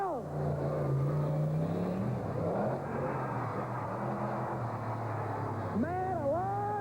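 A loud truck engine roars past on a track at the 1990 General Tire 4 Wheel Jamboree in Bloomsburg, its pitch sliding down as it goes, then revving rises again near the end.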